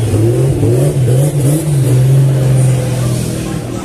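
A video-game Silvia S15 fitted with a Porsche twin-turbo V8 revs loudly and close, its pitch rising and falling in waves before settling into a sustained drone, with an excited voice briefly exclaiming over it.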